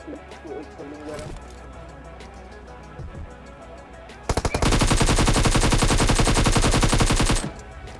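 Rapid automatic gunfire in a battle royale video game, preceded by scattered quieter shots and game ambience, then a loud sustained burst of a few seconds that stops abruptly.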